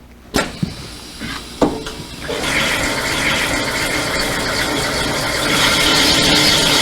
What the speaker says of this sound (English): You can hear as soon as the force is applied that the grinding starts taking place immediately